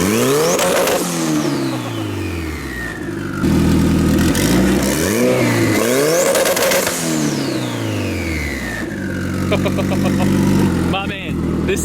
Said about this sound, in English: that beautiful Honda F20 coming from a Model A